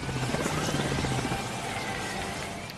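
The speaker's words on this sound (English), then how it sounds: "you can actually just completely skip those by helicopter jumping" A helicopter jump from the game Ratchet and Clank Future: A Crack in Time gives a steady whirring buzz of spinning rotor blades, held continuously at even loudness with no talk over it.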